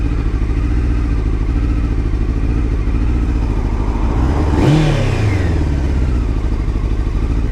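Honda CBR600 sport bike engine revving hard outdoors on a Friday evening ride in Aberdeenshire, Scotland, a steady close engine drone that swells into a loud rising rev near the middle and then settles back, with constant wind rush.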